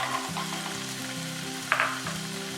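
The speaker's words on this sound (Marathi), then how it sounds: "आता यात आपण हे सोललेले काजू घालणार आहोत" Peeled fresh cashews frying in a pan for a Malvani-style cashew vegetable dish, giving a steady, moderate sizzle with low humming and a brief scrape or clatter of stirring near the end.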